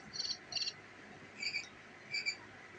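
A small battery-powered cricket toy chirps in four short bursts, two quick pairs of bright, trilling pulses separated by brief pauses, fairly faint over a quiet background hiss.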